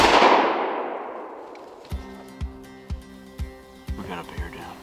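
A rifle shot at a bear during a hunt rings out with a loud initial blast that decays into a long fading reverberation. A series of regular knocking thuds with a ringing tone follows.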